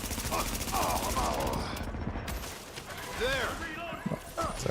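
Rapid automatic gunfire rattles in a firefight in The Division, dense bursts with sharp impacts and short gaps, mixed with game voice callouts.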